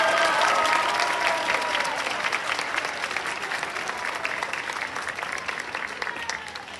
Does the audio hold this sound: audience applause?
yes